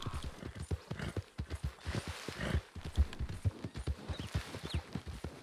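Horse hooves clip-clop at an even walking pace in Red Dead Redemption 2, crisp close thuds repeating rhythmically for several seconds with no voices over them.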